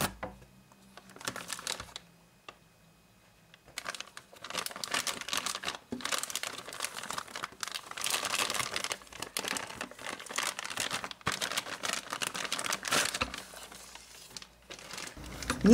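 Radeon RX 570 graphics card being unpacked from its antistatic bag: sustained, fairly close crinkling and rustling of plastic film in dense bursts after a quiet opening, with no talking.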